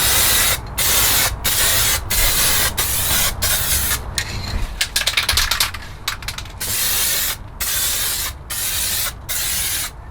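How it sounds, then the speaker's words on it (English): Lacquer sprayed onto a carbon fibre car spoiler, loud steady hissing bursts from a spray can or gun, about a dozen passes separated by brief pauses, close and alone. "And here comes that sweet lacquer transformation."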